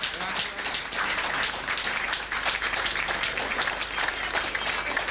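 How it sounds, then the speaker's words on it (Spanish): Audience applause greeting first-time attendees at a rural reflection group gathering, a steady dense wash of clapping that fills the whole stretch without a break. "Este aplauso es para los que vienen por primera vez."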